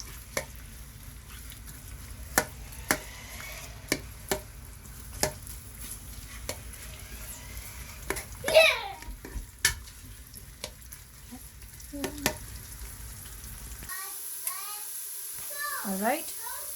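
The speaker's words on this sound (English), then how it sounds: "We are going to saute these onions." Onions sautéing in an Instant Pot, a soft steady sizzle under sharp clicks and scrapes of a utensil stirring at irregular intervals, with a voice and other speech heard briefly in the background.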